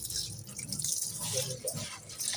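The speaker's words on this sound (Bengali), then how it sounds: "এই যে চাল ধুচ্ছি" Water splashes and drips as rice is washed by hand in a home kitchen, soft irregular sloshing close by with faint background noise throughout.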